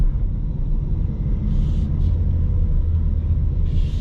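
A 2021 Ford Mustang with the 2.3 liter engine and six-speed manual idles steadily while stopped in traffic, a low, even rumble heard from inside the cabin with faint passing sounds over it.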